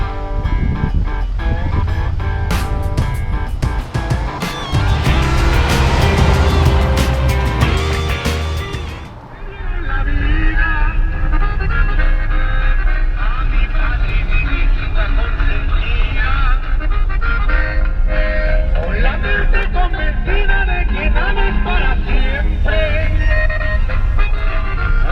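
A 1966 Ford F100 pickup truck being driven: a loud, steady engine drone and road rumble with wind buffeting throughout, with people talking over it.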